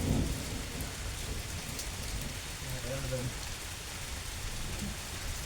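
Heavy rain pours steadily at a rock cave on a mountain, with a low thunder rumble underneath and a brief voice near the start; the downpour stays dense and constant throughout.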